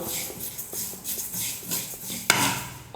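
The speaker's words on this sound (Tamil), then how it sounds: "எள்ளு நல்லா வறுந்து நல்லா பொரிஞ்சு வந்துருச்சு" Sesame seeds dry-roasting in a pan for a healthy laddu, crackling with scattered small clicks and light scraping, then a sharper snap near the end, close and fairly quiet with no talking.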